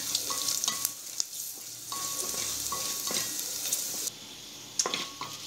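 Spice paste with chilli powder, turmeric and coriander powder frying in a pan: a continuous close sizzle broken by repeated stirring scrapes and light clinks of a spoon against the pan, no voices.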